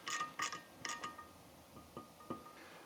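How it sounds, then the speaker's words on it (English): Quiet ratcheting clicks come from a 6mm deep socket wrench snugging up small bolts on a Triumph Thruxton RS motorcycle, in short bursts of several rapid ticks followed by a few sparse single clicks. "Using a 6mm deep socket or an open-end wrench, I'm going to tighten these up."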